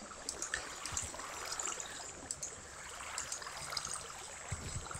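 Flowing water in the Minecraft video game trickles and gurgles softly, a faint continuous stream with small bubbling ticks and no talk over it.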